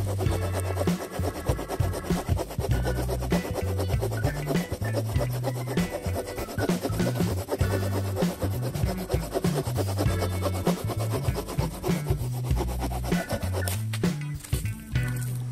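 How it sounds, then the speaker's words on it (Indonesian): The saw blade of a Roxxon multitool cuts back and forth through wood in a steady rhythm of rasping strokes, loud and near, going on for about fifteen seconds with no talk. "Roxxon sendiri juga punya mata gergaji yang juga bisa diandalkan."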